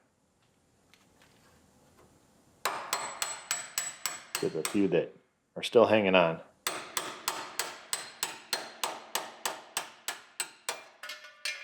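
Sharp metallic hammer blows drive a scraper under a car's metal fender bracket in quick, regular rhythm, with a brief scraping clatter in the middle and a faint voice early on.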